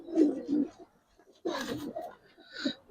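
Giribaz silver pigeons coo in a few close, throaty bursts, two longer coos separated by a short pause and a third starting at the end, with no talk over them.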